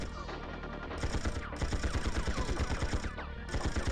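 Sustained rapid assault rifle fire in the video game Tomorrow Never Dies during a boss fight, a dense loud rattle of shots with brief pauses between bursts and no talking.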